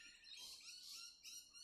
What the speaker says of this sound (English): sorry about the background birds